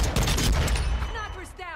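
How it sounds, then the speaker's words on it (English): Dense, loud bursts of rapid gunfire in a first-person shooter game, followed by a person talking over the tail end of the shooting. "Our teammate's shooting at me."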